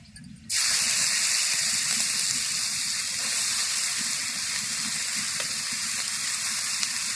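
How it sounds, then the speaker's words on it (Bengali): Grated cabbage hits hot oil in a wok and erupts into a loud, steady sizzle that starts abruptly and holds as a continuous frying hiss to the end. "কড়ার মধ্যে তেল দিয়ে দেবো গ্রেট করা বাঁধাকপি"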